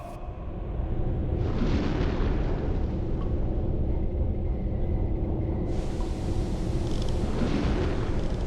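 Torpedo tubes firing aboard a submarine in the UBOAT game: a heavy, continuous low rumble with two rushing bursts of brighter noise, each lasting several seconds, loud and close throughout.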